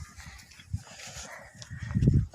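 Dogs on a street make scattered, faint barks and movement sounds amid outdoor background noise, with a louder rumble near the end as a car approaches.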